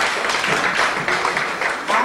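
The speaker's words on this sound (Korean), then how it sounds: "박수 한번 해주십시오." A lecture audience applauding at the end of a talk, with dense, steady clapping from many hands in a room that continues evenly without pause.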